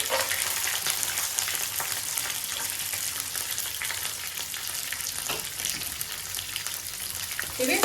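Green chillies and cashews with peanuts sizzle steadily in hot oil, a dense continuous crackle with occasional louder pops and stirring scrapes, close and fairly loud, with no one talking.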